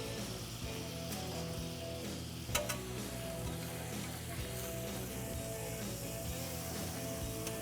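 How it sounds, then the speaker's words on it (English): Steady, dense sizzle of fish frying skin-down in a hot pan, continuous and close, with a brief clatter partway through. "We'll get them sizzling. That helps cook the fish."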